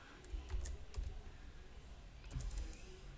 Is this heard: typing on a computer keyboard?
yes